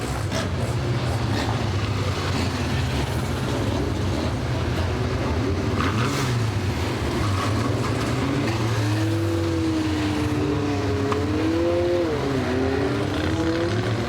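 Stock cars at a Warton Stock Car Club meeting race in a pack, a dense, constant engine roar with rising and falling revs and occasional sharp rattles and knocks, loud and close throughout.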